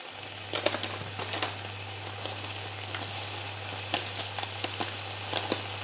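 Strips of onion sizzle in a hot pan for a stuffed courgette dish with lardons and ricotta, a steady close frying hiss punctuated by small crackles and pops, with a low electrical hum underneath.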